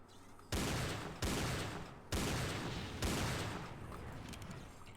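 A combat gun and super shotgun from Doom 2 fire four loud, heavy blasts, spaced about a second apart, each with a decaying boom, followed by quieter crackling.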